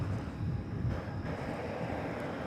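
A passenger airliner on a flight from St. Louis rumbles at DFW Airport, a steady broadband roar of jet engine noise holding at a constant moderate level throughout.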